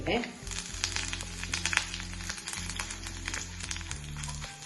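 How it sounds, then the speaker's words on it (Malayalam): Mustard seeds spluttering and popping in hot oil in a pan during a Kottayam-style tempering with dried red chillies and curry leaves, a dense steady crackle of close frying with a low hum underneath. "ഇത് കടുകെല്ലാം നന്നായിട്ട് പൊട്ടി"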